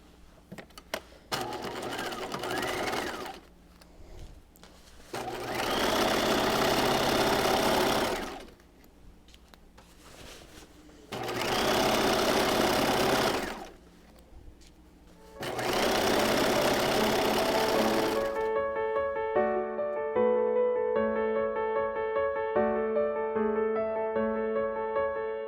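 A sewing machine stitches a dress seam in three sustained bursts with short pauses between, stopping partway through as a pivot is made; soft music plays near the end.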